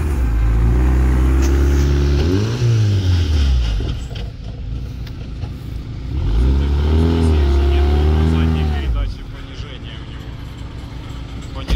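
An off-road car stuck in thick, sticky mud revs hard in two long surges, the engine pitch rising and falling under load between them, with voices talking over the engine.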